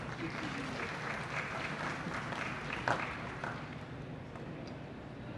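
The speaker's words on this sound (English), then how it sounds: "give her a round of applause." An audience at a rail industry conference session applauds steadily as a group is invited to the podium, a dense, even wash of clapping with one sharper burst near the middle.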